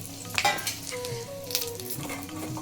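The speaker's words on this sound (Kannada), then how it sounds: "ಎಲ್ಲನೂ ಹುರ್ಕೊಂಬಿಡೋಣ" Spices such as fenugreek, kalpasi and poppy seeds dry roasting in a pan for bisibele bath powder, with steady soft sizzling and a few stirring scrapes close by.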